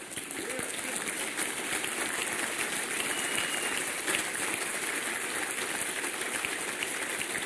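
A large crowd claps steadily in sustained, dense applause that holds at an even level throughout.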